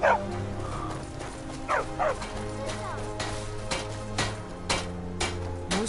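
Torum, a dog at a mine in Skyrim, gives a series of short, sharp barks and yips at irregular intervals over ambient game sounds, fairly close.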